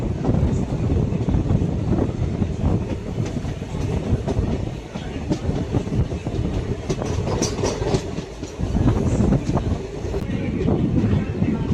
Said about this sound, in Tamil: ஆப்போசிட்டில் போயினுக்கிறது பார்த்தீங்கன்னா மதுரை ராமேஸ்வரம் வண்டிங்க